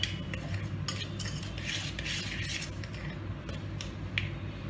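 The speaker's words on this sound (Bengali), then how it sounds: "এবার এটা ভালো করে মেশাবো।" Flour and baking powder being stirred together in a bowl for an apple pie, a soft steady scraping and swishing close by with a few light clinks of the utensil against the bowl.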